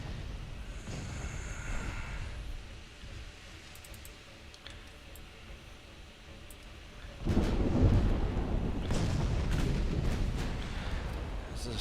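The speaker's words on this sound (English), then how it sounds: "Is the storm getting worse?" A thunderstorm rolls over a naval battle in the game Ultimate Admiral Dreadnoughts, with steady rain hiss and a low rumble before a loud thunder crack and booming roll takes over for the last seconds.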